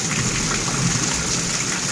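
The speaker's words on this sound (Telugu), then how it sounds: "వర్షం చాలా పడుతూ ఉంది" Heavy continuous rain falling near a house, a dense, steady roar of drops on surfaces with no pauses and no voices.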